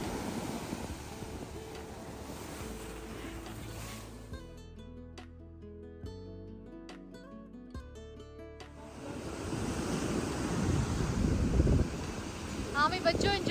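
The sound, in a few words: strong ocean waves at Salalah beach, Oman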